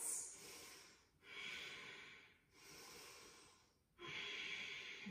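Deep, slow ujjayi breaths during a yoga flow, a steady hissing throat-breath alternating inhale and exhale in about four long waves, close and fairly quiet, with no talking.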